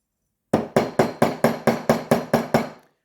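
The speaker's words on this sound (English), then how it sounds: "make sure to hammer it flat" Sterling silver ring hammered flat on a hard flat surface: nine sharp, evenly spaced metallic blows in quick steady rhythm, close and loud, then silence.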